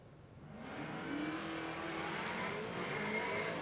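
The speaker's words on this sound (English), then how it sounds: "A lot of wheel spin there for Holtz off the start line" At Willowbank Raceway drag racing, an XY one-tonner and a Monaro launch off the start line, engines rising to a loud sustained roar with wheel spin whine, heard from trackside without talk.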